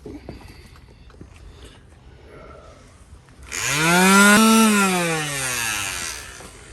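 A sander with 600-grit sandpaper works a fiberglass boat's gel coat repair. After a quiet start, a loud whirring whine rises sharply, holds, then slowly winds down over several seconds, close up and with no talk.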